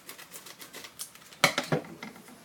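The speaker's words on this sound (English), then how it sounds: "we cut the top off" Scissors snip across the top of a small paper yeast sachet in a home kitchen, giving one crisp cut followed by a couple of quick paper rustles close by, with faint tapping before.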